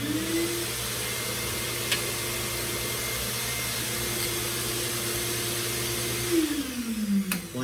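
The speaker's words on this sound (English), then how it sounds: "The air source is a little loud." The air source of a physics lab air track blows steadily, a loud, constant whooshing drone with a humming tone that holds for several seconds before sliding down in pitch near the end.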